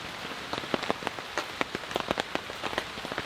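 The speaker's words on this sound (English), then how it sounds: "It does look like the rain is moving out." Steady rain pours during an intense storm at a campsite, a dense close hiss with scattered sharper drop impacts throughout, no voices.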